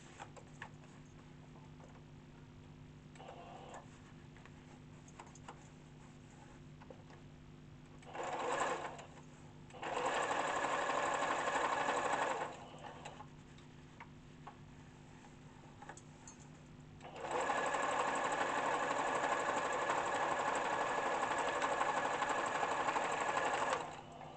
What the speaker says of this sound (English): Open the seams and top stitch on each piece.